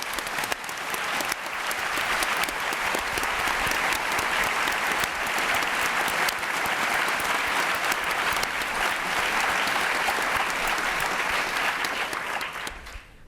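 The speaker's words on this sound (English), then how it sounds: "I can hear from all your claps, there's such enthusiasm in the audience." An audience at a round table talk on the rule of law applauds for about thirteen seconds, a loud, even wash of clapping that thins out at the very end.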